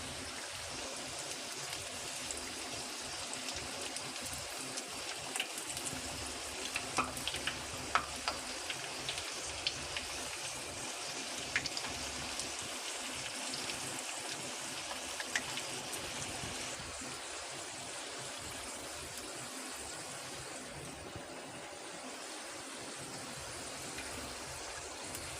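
Vegetarian chicken lollipops frying in hot oil as they are turned over, giving a steady, even sizzle throughout with faint clinks of stirring and no talking.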